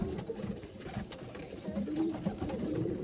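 Pigeons for sale in Bangalore, held and released by a seller, give soft low cooing and faint wing and handling rustles close by, with no voices during the clip.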